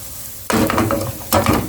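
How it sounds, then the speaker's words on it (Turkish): Potato börek fries in a pan. A steady low sizzle swells twice into louder hissing, stirring-like bursts as the pan is shaken, close and heard alone with no talking. "Bakın böyle güzelce sallaya sallaya e, gayet güzel bir şekilde pişiriyoruz"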